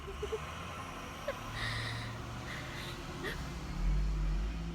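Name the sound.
school bus driving by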